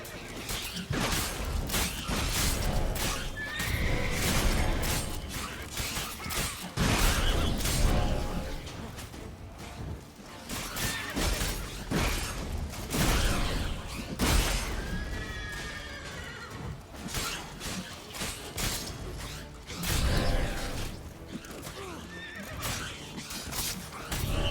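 Roach, a horse in The Witcher 3, whinnies and trots while game effects whoosh and creak around it, and hooves clop repeatedly at a steady pace. A voice speaks at times over the loud, busy mix.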